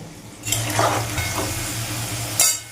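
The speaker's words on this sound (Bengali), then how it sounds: "আমার সুন্দর ওলগুলো ভাজা হয়ে গেছে" Elephant foot yam pieces frying in oil in a pan for a vegetarian curry, giving a steady close sizzle with a low hum beneath and brief louder bursts near the start and end as the pieces are moved.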